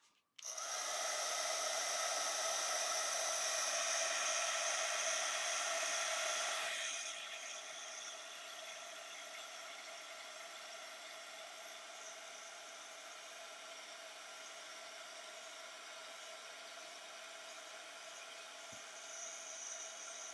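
Heat tool blowing steadily while melting embossing powder in a craft setup, a loud continuous whooshing hum that drops slightly in level partway through and then holds steady.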